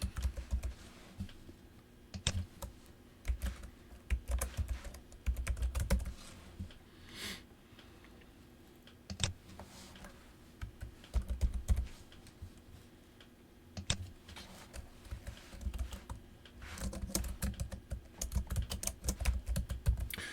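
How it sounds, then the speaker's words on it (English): Fast typing on a computer keyboard while entering a new member's address into a chapter membership form, the clicks coming in quick uneven bursts with short pauses, close and fairly soft over a faint steady hum. "notice as I start typing in address"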